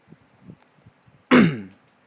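A person recovering from flu clears their throat in one harsh, close, loud rasping burst, preceded by faint soft sounds in an otherwise quiet room.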